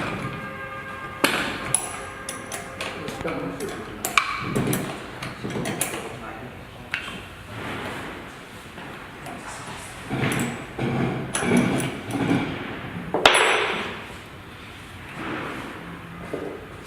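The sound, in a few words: disassembling a deep well submersible pump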